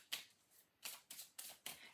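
A deck of tarot cards being shuffled up close: five quick papery riffles, the first standing alone and the rest following in a steady rhythm, with no voice.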